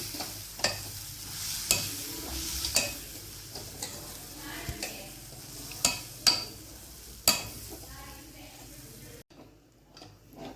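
Leftover idiyappam is stirred into masala in a pan with a spatula, giving regular sharp scrapes and taps about once a second over a low sizzle before stopping abruptly near the end.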